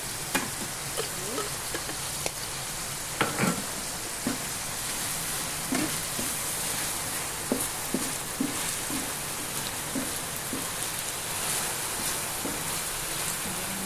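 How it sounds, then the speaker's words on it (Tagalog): Food fries hard in a pan with bulgogi sauce, a dense crackling sizzle heard up close, broken by repeated scrapes and clacks of a utensil stirring, with no talking. "Fry mo pa rin."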